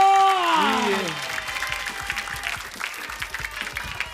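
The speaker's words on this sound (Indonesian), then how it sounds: "Kasih tepuk tangan dong." A studio audience at an Indonesian TV variety show applauds steadily, a dense crowd clapping that follows a loud sung or shouted phrase at the start and continues evenly to the end.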